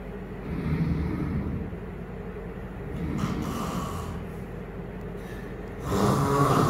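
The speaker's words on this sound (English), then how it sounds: "stop snoring. I can't sleep." A person snores with slow, rhythmic breaths, near and fairly loud, two or three swelling cycles over a low background rumble.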